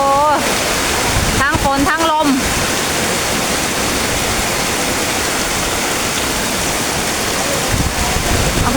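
Heavy rain and wind roar as a constant, loud wash of hiss throughout, close and steady; a voice breaks in briefly near the start, then the downpour carries on alone.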